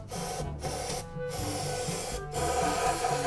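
STP carb cleaner hissing from an aerosol can in broad, continuous bursts with a few brief pauses, loud and close, with metallic clatter mixed in.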